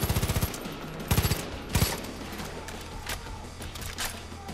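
Automatic gunfire rattles in Far Cry 5 as a tower is shot at, coming in three short rapid bursts. Quieter shots, mechanical clicks and game ambience follow.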